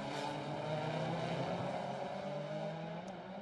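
WTCC touring race cars on the Macau street circuit, a steady distant engine drone with layered revving tones that holds throughout, fairly faint.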